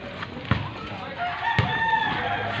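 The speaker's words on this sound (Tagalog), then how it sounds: "Daming manok." Many chickens at a house compound in Pampanga, Philippines cluck nearby, and a rooster gives a drawn-out crow, with a couple of sharp knocks amid the steady outdoor din.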